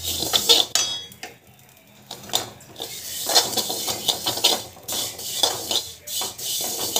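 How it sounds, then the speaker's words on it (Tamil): Vermicelli is dry-roasted in a pan, stirred with a metal spoon, giving uneven bursts of clinking and scraping against the pan with short pauses, close up and with no speech. "சேமியா வந்து நல்லா வந்து வறுத்துக்கணும்"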